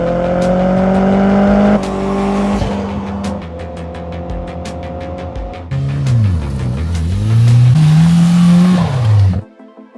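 A right-hand-drive Toyota Celica GT-Four rally car revs loud and close, its engine note climbing through gears with sharp rises and drops, a brief lift-off around the middle, then a strong pull before cutting out abruptly near the end.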